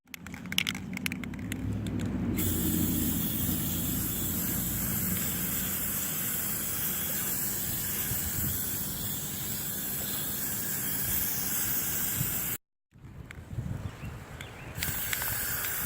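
Spray paint hissing steadily from an aerosol can while coating a homemade DIY jewelry organizer, a continuous close broadband spray lasting several seconds, briefly cut off, then resuming in shorter bursts.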